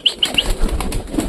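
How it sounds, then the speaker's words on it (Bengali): Pigeons, pet Giribaz birds kept indoors, flap their wings in three quick bursts close by, followed by softer rustling and shuffling at the end. "আজকে পায়রাগুলো প্রচুর জ্বালাচ্ছে গাইজ,"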